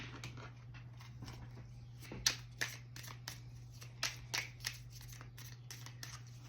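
Tarot cards are shuffled close by in a quiet room, a run of quick papery riffles and flicks with several sharper taps, faint overall above a steady low hum.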